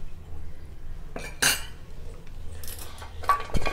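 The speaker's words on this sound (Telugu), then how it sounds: "స్పూన్స్ వేసిన తర్వాత కలిపి మనము ఇది మూత పెట్టేద్దాం." A spoon clinks and scrapes against a pot of gongura dal being stirred, then a metal lid clatters as it is set on top, in a few sharp knocks over a quiet kitchen hum.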